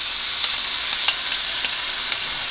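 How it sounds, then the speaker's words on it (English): Steady, bright sizzling of soy frying in a pan, with a few soft pops and clicks over the constant hiss. "and it's frying up."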